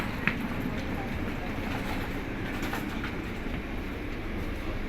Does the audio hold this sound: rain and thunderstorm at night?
no